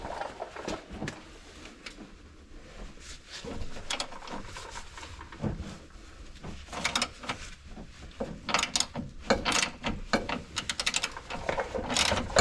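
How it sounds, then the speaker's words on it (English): A 24 mm bolt on a Ford Mustang S550 control arm loosened with a ratchet or breaker bar, close clicking, ratcheting and clanking metal work in irregular bursts, with no talk. "you're going to want to loosen this bolt up here"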